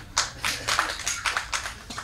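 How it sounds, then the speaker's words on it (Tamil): A couple of audience members clap in a sparse, slightly uneven rhythm, roughly eight crisp claps over two seconds, close and fairly quiet with no talk. "இப்படி ஒருத்தர் 2 பேர் கைதட்டுறீங்கல்ல"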